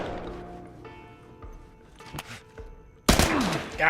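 Assault rifle fire in The Last of Us erupts suddenly near the end as a loud burst of rapid shots, after a stretch of quieter game sounds and thuds.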